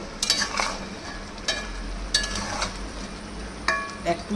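Banana flower koftas dropped into a curry pan with garam masala, giving a low steady sizzle broken by several sharp stirring clinks and scrapes, fairly faint and close, with no talk.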